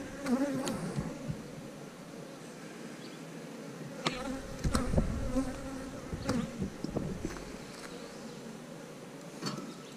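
Honeybees swarming around an open hive in a beekeeper's yard, a steady close buzzing drone with individual bees zipping past the microphone and occasional handling knocks, no talking.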